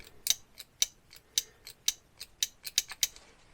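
Fuel pump adjuster on a Morris 1300 ratcheted back by a notch: a quiet run of about ten sharp mechanical clicks, close and at an uneven steady pace, with nothing else heard.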